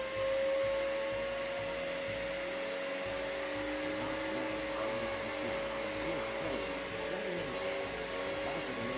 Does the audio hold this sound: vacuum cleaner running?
yes